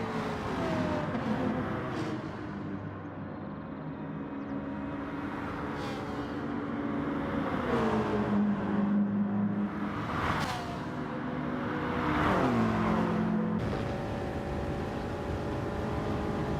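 Race car engines in GT Sport, running alongside a McLaren on a long straight at Spa, make a sustained droning roar whose pitch rises and falls through gear changes, loud and continuous, with no talking.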